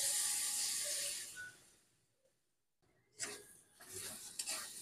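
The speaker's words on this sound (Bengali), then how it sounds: "এবারে সবকিছু খুব ভালোভাবে মিক্সড করে নেব।" Grated potato and ground pointed gourd seeds are stirred in hot oil, giving a soft sizzle and hiss that fades to near quiet, then returns with brisk scraping stirs.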